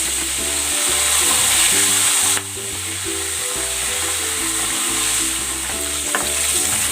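Breaded calamares sizzle steadily in hot oil, a dense, close crackling hiss that continues throughout while faint background music plays underneath.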